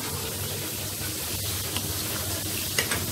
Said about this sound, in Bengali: ঝোল অ্যাড করেছো? ঝোল দিয়ে দিচ্ছি।